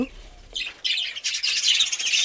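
High, busy chirping from several small birds, thin tweets overlapping and growing denser, close and steady throughout.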